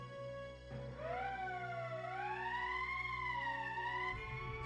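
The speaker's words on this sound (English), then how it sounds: "That's the emergency siren." An emergency siren wails in Valkyria Chronicles, a loud tonal alarm rising and falling in slow sweeps over a low hum before cutting off near the end.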